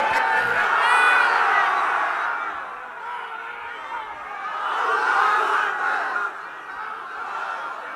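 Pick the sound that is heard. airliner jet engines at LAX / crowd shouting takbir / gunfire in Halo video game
crowd shouting takbir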